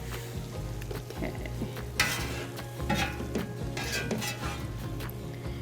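A mixture being stirred in a saucepan off the heat while cooking unstuffed peppers, with steady scraping and sizzling close by and a few clinks of utensil against pan, no talking.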